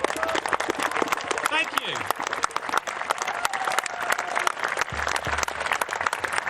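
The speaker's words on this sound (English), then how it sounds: "Please give yourselves all a round of applause just for being here, please." An audience applauds throughout, with dense steady clapping under a voice briefly thanking them.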